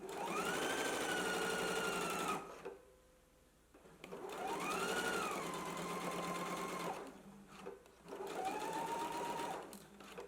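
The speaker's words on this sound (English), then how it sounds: "we're just going to stitch it in place. You can use a zigzag stitch for this stitch" A sewing machine runs a zigzag stitch along a sleeve seam, whirring steadily in three long bursts separated by short pauses, close and fairly loud with no talking.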